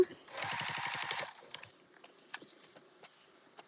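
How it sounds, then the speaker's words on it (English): A sewing machine stitches darts on a fabric bowl cozy in a short rapid burst of needle strokes lasting about a second, followed by quieter clicks and handling sounds. "right now we're just sewing these darts"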